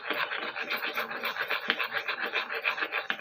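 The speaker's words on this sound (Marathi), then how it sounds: "आणि छान याला फेटून घ्यायचं" An egg being beaten with red chilli powder and salt, rapid rhythmic scraping and whisking strokes against a bowl, close and continuous with no talk.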